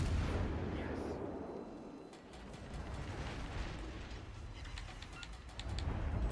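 Ship guns fire in World of Warships: Legends. A loud opening blast with a rolling rumble is followed by clanking mechanical clicks and scattered distant shots over a continuous low naval battle din.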